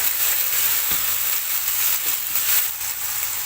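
Ginger and garlic sauté in an oily pan, giving a steady, close sizzle and crackle throughout, with an occasional soft scrape of stirring.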